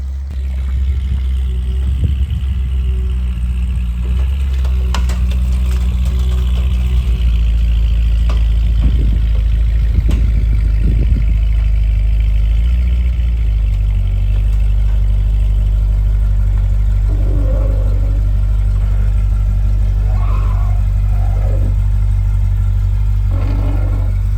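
A Corvette C6 Z06 engine runs close and loud at idle after starting, a heavy, steady low rumble with faint shifts in tone and no voices.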